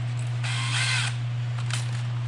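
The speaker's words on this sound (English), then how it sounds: "So we're just going to slam the drill through" A power drill bores through the hood prop mount of a 2005–2010 Honda Odyssey minivan, whining hard and close against a steady low motor hum, rising to a strained grind as the bit bites and then easing off.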